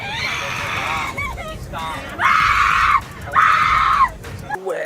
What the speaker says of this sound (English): You shouldn't be screaming like that.